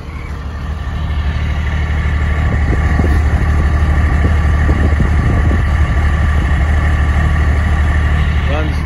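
A 2005 Freightliner school bus with a Mercedes turbo diesel engine idles steadily, a continuous low rumble and hum held close and even throughout.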